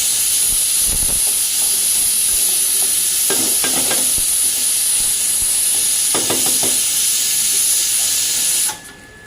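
Onions frying in a hot pan for a Telangana-style boti curry, with a steady loud sizzle and hiss throughout and a few short scraping stirs, cutting off abruptly at the end.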